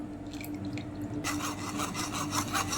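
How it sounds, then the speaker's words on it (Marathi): Soaked tamarind pulp is pressed and rubbed through a strainer while making pani puri water, giving close, rhythmic scraping rasps that grow louder midway. "तो आपण परत गाळून घेऊया याच्यातनं"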